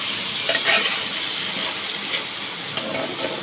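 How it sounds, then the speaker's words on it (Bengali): A ground paste of kulekhara greens, coriander, mustard and poppy seed frying with eggplant in a pan, a steady close sizzle and hiss with faint stirring scrapes, no talking. "এবারে এই কুলেখাড়ার শাক, ধনেপাতা, সর্ষে, পোস্ত সব বাটা ছিল, এটা দিয়ে দিলাম"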